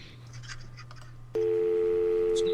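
A phone line for a premium-rate helpline, with a faint low hum and a few clicks, then a loud steady two-note tone that cuts in sharply and holds to the end.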